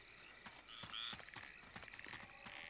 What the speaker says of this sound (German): die Frösche quaken hier schön